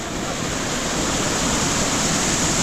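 Close, constant rushing roar of the Appancho waterfall at Kupawade, a forest cascade of clear water, dense and unbroken for a few seconds with no voices.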